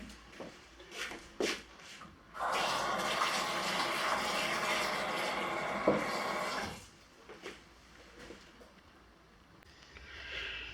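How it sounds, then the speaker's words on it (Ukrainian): Water pours steadily from a tap into a small cooking pot for about four seconds in a kitchen, with quiet handling clatter before and after. "Наливаємо водою."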